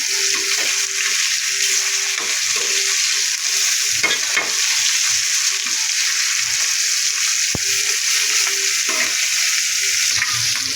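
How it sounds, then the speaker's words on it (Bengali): Katla fish frying in a pan of oil, giving a steady, close sizzling hiss throughout with occasional stirring clinks and no voices. "মাছগুলো দিয়ে দিলাম খুব ভালোভাবে ভেজে নেবো"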